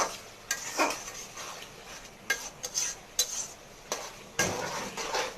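Potatoes are stirred into a spice masala in a pan, with intermittent scraping and clinks of a spoon against metal over a quiet low sizzle, close by and without talk.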